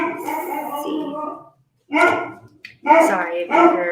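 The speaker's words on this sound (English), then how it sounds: "He is such a barker. He barks so much." A pet dog barks and yips in short harmonic bursts, loud and close indoors, with gaps between outbursts and someone talking around it.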